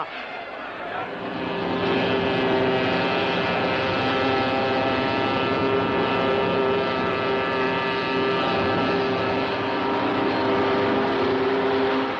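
Racing boat engines roar steadily on water, a loud, continuous drone with a rough rumble underneath.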